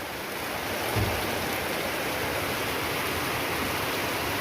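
Water gushes forcefully in a steady, hissing rush, loud and close, with no voices.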